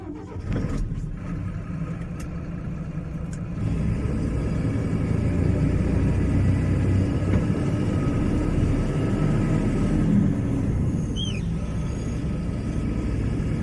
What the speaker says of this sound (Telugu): ఫస్ట్ అయితే ధర్మా బాబాయ్ బండి వెళ్తుంది ట్వెల్వ్ టైర్ ఫోర్ టూ